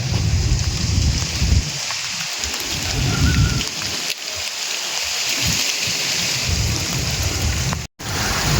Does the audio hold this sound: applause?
no